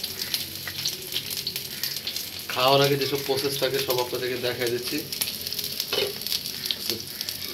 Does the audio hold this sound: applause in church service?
no